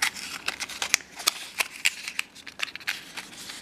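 Scissors snip open small plastic craft packets, a string of short, crisp cuts and crinkles close by with no talking.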